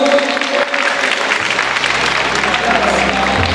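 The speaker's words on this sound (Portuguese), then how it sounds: "Pessoal, uma salva de palmas dos nossos garotos" Applause from a crowd at an amateur football championship trophy ceremony for young players, steady loud clapping throughout with crowd murmur beneath.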